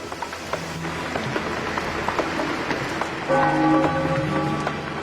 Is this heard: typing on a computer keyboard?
no